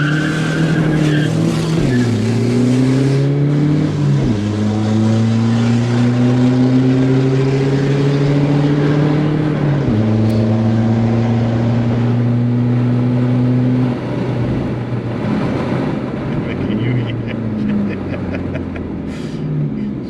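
A VW Polo TDI diesel car pulls hard through several gears, its engine note climbing in long steady sweeps with drops at each shift, loud and close from inside the cabin, then easing off toward the end.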